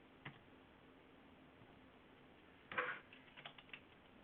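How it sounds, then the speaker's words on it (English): A computer keyboard gives a faint tap, then a short cluster of quick keystrokes, quiet and close with no talking. "oh, there goes my keyboard"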